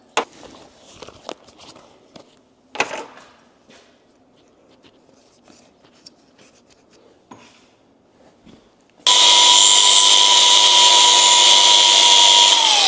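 A power grinder spins up and runs loud and continuous with a steady high whine in a garage workshop, after several seconds of scattered clanks and handling noises.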